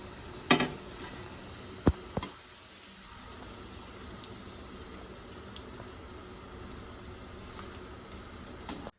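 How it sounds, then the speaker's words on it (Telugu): Cashews deep frying in hot oil give a continuous bubbling sizzle, broken early on by a few sharp clatters and knocks, then settling into a steady, moderate hiss. "ఇప్పుడు జీడిపప్పుల్ని కూడా ఇదే ఆయిల్లో డీప్ ఫ్రై చేసుకుందాం."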